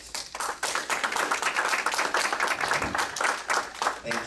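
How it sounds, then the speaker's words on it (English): A church congregation gives dense, steady applause for several seconds. The hand claps sound fairly close and stay at an even level throughout. "About a round of applause."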